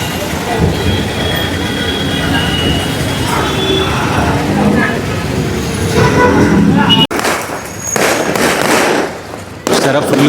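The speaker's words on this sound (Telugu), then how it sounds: "మొత్తం క్రాకర్స్ కాలుస్తున్నారు." Firecrackers burst in a loud, dense continuous roar at the Rottela Panduga festival at Bara Shaheed Dargah, over a crowded outdoor scene with voices mixed in. The din cuts out abruptly twice.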